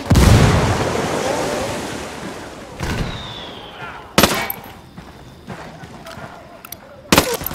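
Gunfire in the video game Ghost Recon Wildlands: a heavy roaring burst at first, then sharp isolated shots cracking out at irregular intervals over a hissing background.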